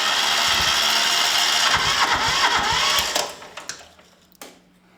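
An old lawn mower engine, just pulled out of long grass, is cranked with the decompression lever down. It gives a loud, rough churning roar for about three seconds, then sputters and dies into a few faint knocks.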